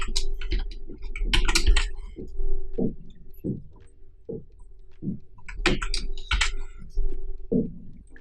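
Keys clack on a computer keyboard as shortcuts are pressed while working in After Effects: short, separate taps and small bursts close to the mic over a low steady hum, with no talk.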